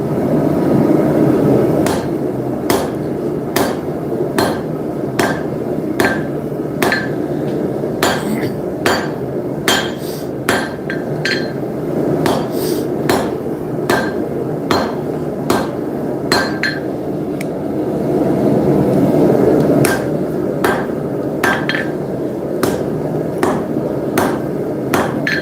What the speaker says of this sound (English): I'm going to start forging myself a tail on here.